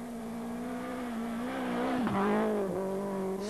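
An old Renault Clio rally car races flat out, its engine note holding steady then dipping and rising sharply as it shifts and brakes, loud and close with no talk.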